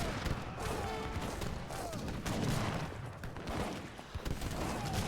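Artillery and musket fire boom and crackle in an Age of Empires III battle where Janissaries and Carolean troops clash. The dense, overlapping volleys and rumbling impacts are fairly loud and continue without pause.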